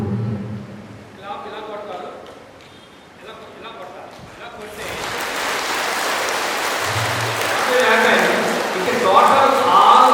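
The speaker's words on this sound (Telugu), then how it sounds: "once you make a clapping just like that" Several people clap together during a yoga and mudra talk, a broad, steady burst of applause that begins midway, follows someone speaking, and grows louder toward the end.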